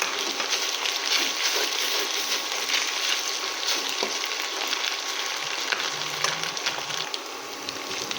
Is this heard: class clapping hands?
no